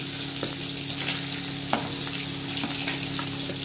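Hilsa fish pieces frying in hot oil for a spicy mustard-oil dish, giving a steady close sizzle with a few sharper crackles and pops, no voices.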